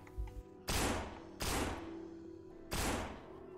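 Gunfire in the zombie survival video game No More Room in Hell, three sharp, loud blasts spaced roughly a second apart, each decaying into a ringing tail.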